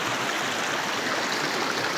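A creek flows steadily beside the bank during a gold-prospecting outing, a dense, continuous rushing of water close by with no voices over it.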